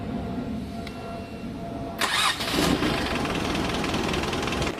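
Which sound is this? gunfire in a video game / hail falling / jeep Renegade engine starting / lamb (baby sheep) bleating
jeep Renegade engine starting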